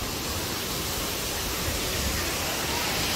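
Pulang Bato Falls in Valencia pours in a steady, loud broadband roar of falling water, unbroken and close throughout with no voices.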